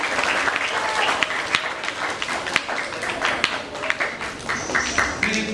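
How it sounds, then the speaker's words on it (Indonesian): A crowd at a youth jamboree gathering claps at moderate volume. Sharper individual claps stand out against a looser wash of applause, and a few voices murmur underneath. "oh dia tepuk tangan untuk saya"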